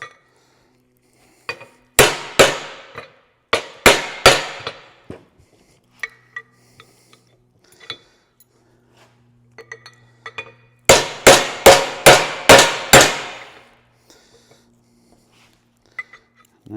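Hammer tapping a U-joint cap down onto a metal table during an axle U-joint rebuild, sharp metallic knocks in two quick clusters of four to six strikes, close and loud, with scattered lighter taps between.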